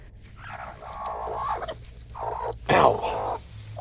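Broody brood hens give low clucks and fowl calls near the nest boxes, several bursts with a louder squawk near the end, under background noise.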